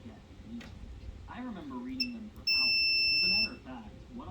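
Someone speaks, then a steady high electronic beep from a multimeter continuity check on a Williams D8359 power supply circuit board sounds for about a second and cuts off, with his voice resuming over the hum.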